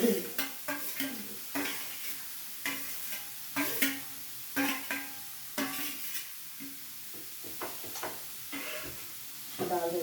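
Radish fried and stirred in a pan, repeated scraping stirs over a soft sizzle, close and rhythmic, with a voice speaking in between.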